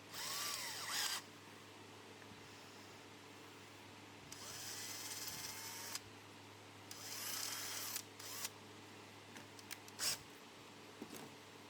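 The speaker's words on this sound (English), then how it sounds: "I will re-drill the hole or kind of ream it out with that drill bit" A power drill reams out a hole in a steel knife blade, whining in several bursts, the longest near the start and middle, with short stops and quieter stretches between runs.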